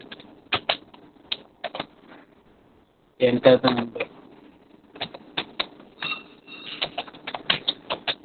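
Typing a shell program on a computer keyboard: bursts of sharp clicking keystrokes, close and moderately loud, with a dense run of rapid taps in the middle, while a person talks throughout.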